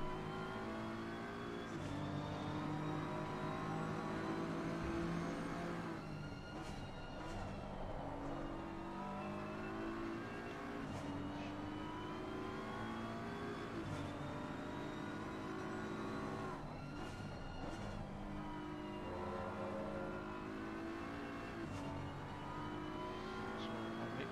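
Race car engine droning and revving continuously in a sim racing game at Oulton Park, rising and falling in pitch through corners and gear changes, steady and loud throughout with no talk.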